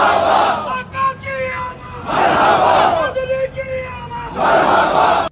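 A crowd chants slogans in loud rhythmic bursts at the Prophet's shrine, three swelling waves of massed voices separated by quieter gaps with scattered calls.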